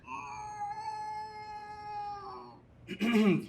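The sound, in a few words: cat meowing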